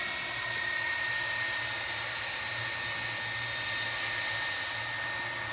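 A jet airliner at Manchester Airport, departing for Barcelona, produces a steady, moderately distant roar with a high whine over a low rumble, holding constant throughout with no talking.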